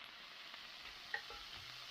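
Leftover meat skewers pan-frying, a faint, steady sizzle with a few soft clicks of the pan, no talking.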